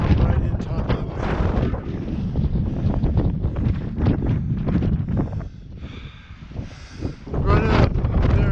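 Strong wind buffets the microphone near the summit of Mt. McLoughlin, a steady loud roar with gusting rises and brief lulls throughout.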